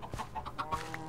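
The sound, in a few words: chickens clucking in a coop in Minecraft video game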